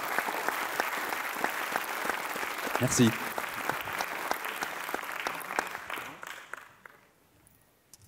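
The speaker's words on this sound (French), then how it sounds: "Et je voudrais qu'on t'applaudisse" Sustained audience applause fills a conference hall in Strasbourg, steady dense clapping with a brief spoken thanks partway through, then fading out toward the end.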